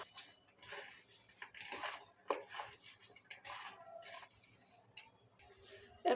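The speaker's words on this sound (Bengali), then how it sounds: "সামান্য পরিমাণ লবণ দিয়ে এগুলোকে মিক্স করে নিব ভালোভাবে।" Chopped onion, green chili, coriander and salt are mixed together in a bowl. Close, fairly quiet clinks and wet scraping strokes come in an uneven rhythm with brief pauses.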